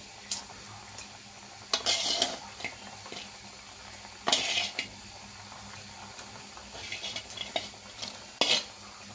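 Fish pieces fry with bitter gourd in a pan, a low steady sizzle punctuated by several louder scraping, clattering stirs of a spatula against the metal, close by and without voices.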